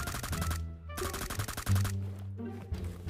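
Rapid M4 rifle fire in BGMI (PUBG Mobile) zombie mode, loud bursts of automatic shots in quick succession, broken by short pauses, over a low game backdrop.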